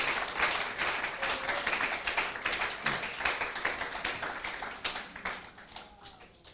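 A church congregation applauds together, with a sustained wash of many hands clapping that fades gradually over several seconds.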